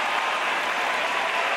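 Wrestling crowd at Alexandra Palace, a steady dense roar of noise from a large audience filling the hall, continuous and fairly loud throughout with no clear voices standing out.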